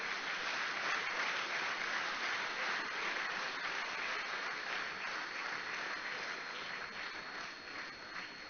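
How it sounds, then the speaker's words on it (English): An audience claps steadily at a medical institute's annual convocation as graduates are named. The sustained applause is faint and sounds somewhat muffled. "You can clap Nityanand loudly"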